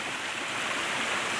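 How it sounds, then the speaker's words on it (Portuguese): A small waterfall in a valley in Itapevi, Brazil, pours as a steady, dense rush of water that fills the scene with no voices. "aqui chegando aqui numa cachoeirinha em Itapevi."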